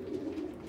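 Racing pigeons in a breeding loft give a soft, low, continuous cooing, close and steady for under a second with no talk.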